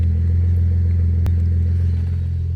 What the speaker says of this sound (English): the cold start is better with Mobil 1